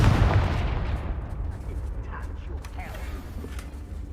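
A Confringo fire spell cast in Hogwarts Legacy, heard as a loud, close burst with a creaking, rumbling tail that fades over about four seconds, with faint magical tinkles in the decay.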